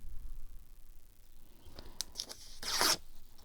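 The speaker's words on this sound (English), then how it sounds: "I'll tear that off, and then I need to tear this off" Paper scraps are torn by hand, with a few faint rustling rips followed by one louder, longer tear near the end, heard close up in a quiet room.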